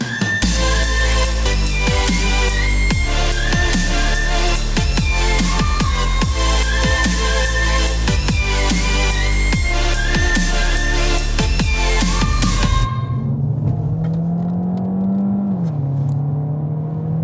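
A Peugeot 308 SW estate accelerating: loud music fills most of the stretch, then a low engine note climbs steadily, eases and drops near the end.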